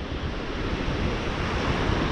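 Waves wash steadily along the Chesapeake Bay shore, a continuous close surf rumble with wind buffeting the microphone throughout.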